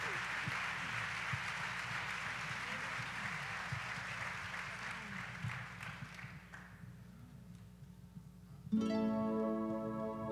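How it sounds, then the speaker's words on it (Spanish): Church congregation applauds during a worship service, a broad wash of clapping over a low sustained musical drone that fades out, after which a held keyboard chord enters loudly near the end. "Dele un aplauso al Señor amado."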